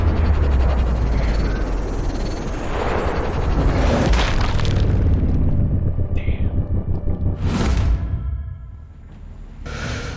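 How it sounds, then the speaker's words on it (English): Mortar explosions in the video game Sniper Ghost Warrior Contracts 2: a loud, sustained rumbling blast with heavy low-end roar that swells and fades over several seconds, followed by a sharp whooshing burst near the end. "Oh, mortars!"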